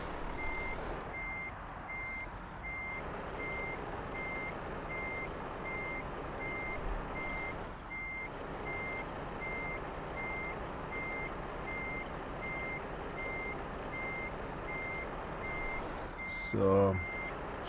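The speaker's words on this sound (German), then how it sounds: "Fahren wir halt ein bisschen rückwärts." Truck reversing beeps from Euro Truck Simulator 2, a steady evenly spaced electronic beeping sounding the whole time over the continuous rumble of the truck engine, with a brief louder knock near the end.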